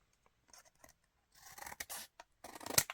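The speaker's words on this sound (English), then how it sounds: "Now all I have to do is bend this back and trim this off." Scissors trimming card for a simple silhouette card: faint, close snips and rasping cuts, sparse at first, then a busier run of crisp slicing strokes.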